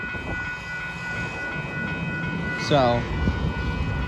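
A train at the Barron Avenue railroad crossing, with steady rumble and tonal lines like a horn or crossing bell, a short rising squeal near the middle, and a brief spoken word.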